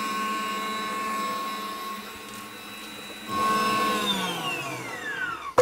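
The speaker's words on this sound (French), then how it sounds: "C'est le batteur qui le fait." A stand mixer beater whirs steadily as it whips red wine marshmallow mixture, a constant motor drone that shifts louder and lower partway through, heard alone without talk.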